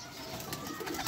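A male Teddy Golden pigeon, a long-tailed breeder bird, gives a soft, close cooing that runs steadily through a brief moment.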